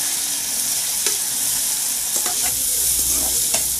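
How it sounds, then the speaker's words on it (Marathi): Chopped onion sizzles steadily in hot oil seasoned with cumin and turmeric, a loud continuous frying hiss with occasional stirring scrapes. "तेल तापल्याला आपण कांदा टाकून घेऊया"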